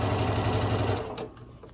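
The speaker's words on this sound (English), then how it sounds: "Right now, I'm just chain piecing all the pieces together." A sewing machine chain piecing quilt pieces makes a fast, steady mechanical whir with rapid stitching that runs loud and close, then eases and slows toward the end.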